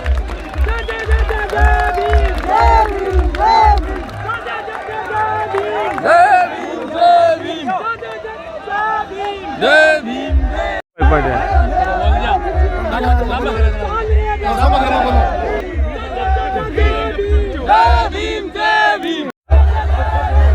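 A large crowd at a farmers' rally in Alsar roars during a statue unveiling, with loud, continuous shouting and chanting voices over a low rumble that runs throughout, broken only by two brief dropouts.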